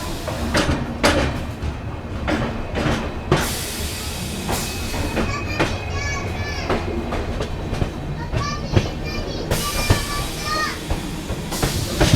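The Belagavi Superfast Express, train 20653, departs Bengaluru platform 9 on the main line, rolling along the rails with rhythmic clickety-clack and rising engine noise, wheels squealing intermittently as it picks up speed.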